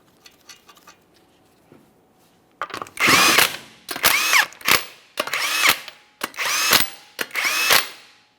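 An impact power tool spins 21 mm lug nuts onto the front wheel of a 2014-2018 Mazda 3, five loud close bursts of whirring, hammering rattle after a quiet start, each separated by brief pauses.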